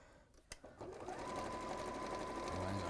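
A sewing machine runs at high speed in steady, continuous stitching after a brief clunk at the start, close and fairly loud throughout, with no talking over it.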